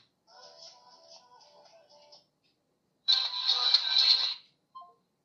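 A phone call dialed from a smartwatch over Bluetooth rings out: a soft, steady electronic tone, then after a pause a louder, brighter ringing burst, ending in a brief blip.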